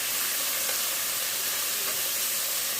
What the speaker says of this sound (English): we're going to sear our beef